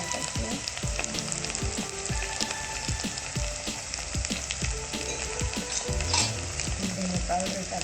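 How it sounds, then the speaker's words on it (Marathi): Onion masala with turmeric is sautéed in a pan for Maharashtrian amti, a continuous sizzle broken by frequent scraping and tapping as the spoon stirs. "आता हे आपण चांगलं परतून घेऊ. थोड्या हळद टाकून घेऊ."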